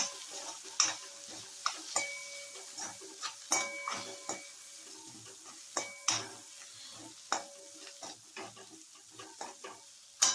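Spices such as Kashmiri red chilli powder and garam masala being mixed for chana chaat, a series of quiet spoon scrapes and clinks against a bowl at an uneven rhythm, close and soft, with no talking.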